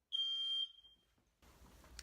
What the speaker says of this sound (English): I have a smoke detector curse. They pretty much go off everywhere I go.